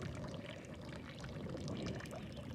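Soft, steady splashing of water pouring and burbling from a small spring outflow on the Continental Divide Trail, faint and continuous with no voices.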